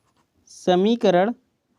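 A marker writes out an equation on a board during a math lesson, making two short squeaky strokes with a brief pause between them, close and clear against a quiet room.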